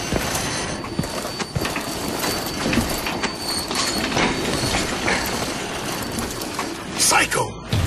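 A moving train in the video game Crysis 3 rumbles and clatters with rhythmic clicks and mechanical rattling, loud and continuous with sharp bursts near the end, as game speech mixes in.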